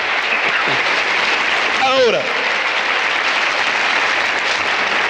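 A church congregation applauds steadily throughout, broad dense clapping with someone briefly speaking and calling out over it near the start.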